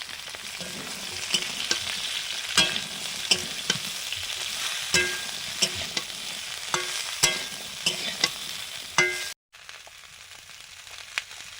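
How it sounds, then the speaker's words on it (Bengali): Yardlong beans and potatoes fry and sizzle in hot oil after shrimp, with a steady sizzle broken by repeated scraping stirs, close and fairly loud, cutting out briefly near the end. "চিংড়ি মাছ ভাজার পরে বরবটি আলুগুলো দিয়ে দিলাম"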